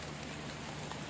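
Steady rain pours down outdoors, a dense, even hiss with scattered droplet patter and no voices, continuous and fairly close throughout.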